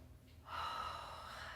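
During a gentle yoga flow, a forceful lion's breath exhale rushes out as a long, breathy open-mouthed hiss after a brief inhale, close but soft.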